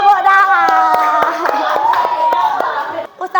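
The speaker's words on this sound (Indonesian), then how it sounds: "Tepuk tangan" A classroom of children claps hands in scattered sharp beats, near and fairly loud, alongside a sustained voice and light chatter.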